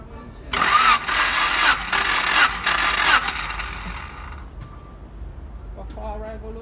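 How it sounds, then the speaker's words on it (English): A 1992 Honda Accord engine cranks over hard during a compression test: a loud, steady churning burst of about three seconds that then cuts off. A voice follows near the end. "I release the gauge and then crank the engine."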